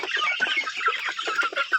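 Free-range village chickens in a small home coop cluck steadily and busily, several birds close by making overlapping rapid clucks without pause.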